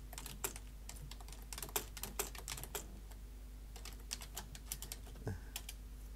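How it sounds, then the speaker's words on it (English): Steady computer keyboard typing during a Warframe gaming session, with many quick irregular key clicks in short bursts, close and fairly quiet over a low constant hum, no talking. "See, that's why I don't like typing."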